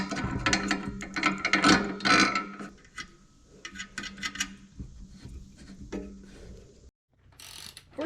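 Ratchet wrench working loose the seat bolts on a conversion van during a swivel seat install, a quick run of close, dense clicking bursts that thin out into scattered clicks, then a short pause and a final burst.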